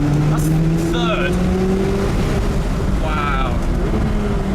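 McLaren 570GT engine pulling hard in third gear while climbing a volcano road, a loud, steady rising engine note with short gear-change breaks, heard close from inside the car.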